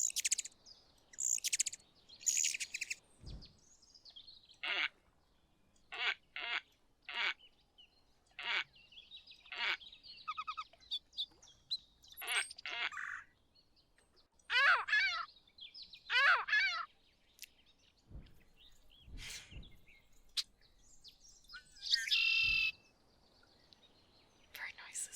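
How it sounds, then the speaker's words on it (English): Whistling duck calls in a board-game setting: a string of short, sharp, raspy calls in uneven bursts with brief gaps, some doubled and trilled, moderately loud and alone, never a true whistle. "The whistling duck does not really whistle, though."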